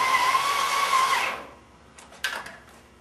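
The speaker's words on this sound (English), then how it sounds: "Take your drill with your self-tapping screw." A power drill driving a self-tapping screw during sign installation whines steadily at close range for about a second, then cuts out, followed by a couple of faint clicks and a short burst of rattling.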